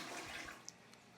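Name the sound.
dual flush toilet flushing on maximum flush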